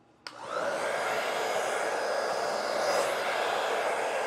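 A steady, close whooshing stream of blown air starts abruptly after a brief click and holds at an even level, used to push and soften alcohol ink across a surface.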